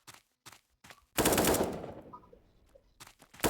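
A few separate gunshots in the video game Special Force 2 lead into a loud, sustained burst of automatic fire that fades out, then more single shots follow.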